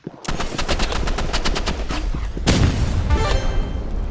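Gunfire in the shooter video game Rivals: a fast burst of rapid automatic shots up close, followed by a heavier blast and continued crackling fire, loud and without speech.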